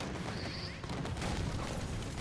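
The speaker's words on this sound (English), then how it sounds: "Incineration cannon." Incineration cannon fire in Halo 5 multiplayer, a dense, continuous roar of blasts and booms filling the clip at steady loudness, with no clear breaks between shots.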